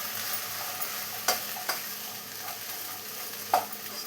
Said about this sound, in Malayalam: ഇനി എല്ലാം കൂടെ ഒന്നുകൂടെ മിക്സ് ചെയ്തെടുക്കാം.